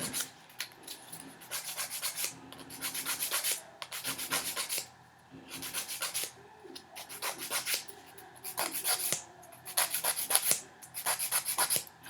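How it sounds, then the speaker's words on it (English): Small nail file rubbing over gel nails in quick bursts of strokes, a few seconds each with short pauses between, close and fairly soft, no talking. "Let's get a little bitty file, just sharpen these up a little bit."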